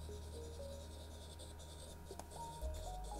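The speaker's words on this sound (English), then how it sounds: "it's gonna start making a sound when you write, as if, you know, you're writing on a piece of paper" Faint scratchy pen-on-paper strokes from a stylus writing on a Galaxy Tab S6 Lite tablet's simulated paper sound, short rubbing scribbles repeating quietly over a steady low hum.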